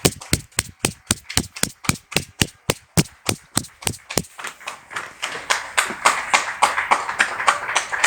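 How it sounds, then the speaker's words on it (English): Someone claps for the NHS in a workshop during a 1962 Cadillac trailer conversion, with about fifteen loud, evenly spaced close claps, then faster, denser clapping that sounds like a wider crowd further off. "So hold on, just got to clap for the NHS."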